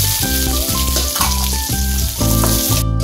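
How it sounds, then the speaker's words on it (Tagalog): Garlic and onion sautéing in a hot pan, sizzling and frying steadily and close up, with stirring bursts and a music bed running underneath throughout. "Magigisa na tayo ng ating bawang,"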